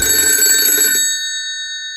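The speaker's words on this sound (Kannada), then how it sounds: "ಫೋನು" A telephone rings loudly with a bright, tonal electronic trill that stops abruptly after about a second, its tones hanging briefly afterward, with no voices.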